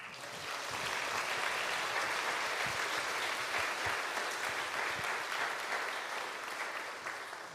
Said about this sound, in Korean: 귀한 제자님들을 위해서 힘찬 박수를 부탁드립니다